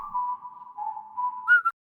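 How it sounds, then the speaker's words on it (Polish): A clear, steady whistled tone from a character in the Sprunki music game holds one pitch for over a second, then jumps to a brief higher note and stops, heard alone without talk. "A, gwizdże."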